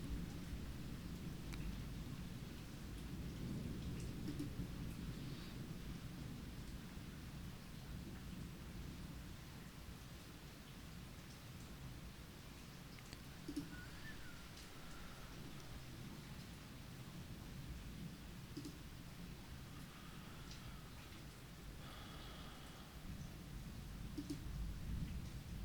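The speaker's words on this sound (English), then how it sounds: "you might hear the thunder as well" A thunderstorm with thunder and rain rumbles faintly and steadily throughout, a soft continuous wash of rain with low distant thunder swelling now and then, and no voices.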